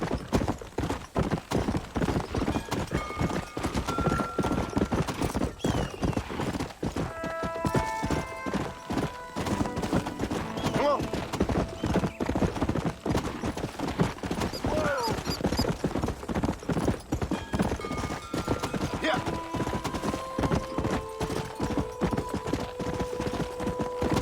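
A horse gallops in the video game Red Dead Redemption, with dense, continuous hoofbeats close and loud throughout, a brief whinny, and game music tones layered over the running.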